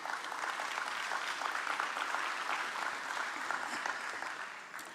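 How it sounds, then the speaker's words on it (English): Conference audience at a national transport conference applauds steadily throughout, a dense sustained wash of clapping welcoming the chairperson of Parliament's Portfolio Committee for Transport onto the stage. "join me through an applause to welcome on stage Donald Slamulela"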